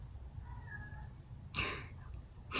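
A pet cat called Cat gives a faint, drawn-out meow at a distance, followed by two short, louder bursts of rustling noise.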